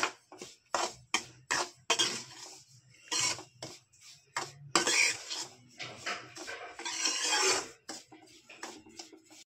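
Grated coconut being mixed into roasted chiroti rava, heard as a quick series of close scraping and clattering strokes of a spoon against a metal vessel, some longer rasping passes, no voices.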